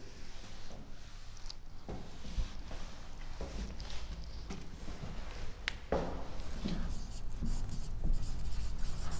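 Chalk or marker scratches on a board in a physics classroom, with short strokes and taps coming in irregular bursts at close range over a faint hum of room noise.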